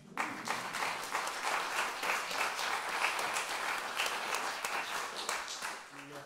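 Steady, dense audience applause at a saxophone quartet concert, a sustained wash of many hands clapping at moderate volume with no break.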